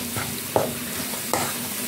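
Cabbage roll filling stirred in a frying pan, a constant close sizzle with two sharp utensil scrapes against the pan, no one talking.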